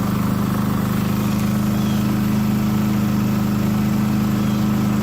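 A Champion 3400 watt inverter generator runs at a steady idle, its even mid-pitched engine drone close and loud, holding constant throughout without changes in speed.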